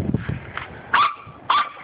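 Corgi puppies give two or three short, high-pitched yips close by, with soft snuffling in between.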